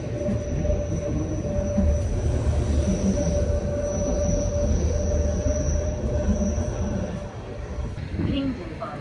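A train on the Jungfrau railway rumbles steadily along the rails near Grindelwald with wheels squealing, loud and close, while an announcement voice speaks over it.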